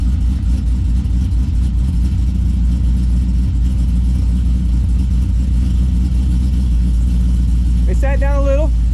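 A Pontiac GTO fitted with racing rear springs sits running in drive, its engine a loud, steady low rumble throughout, with a brief whistling squeal near the end.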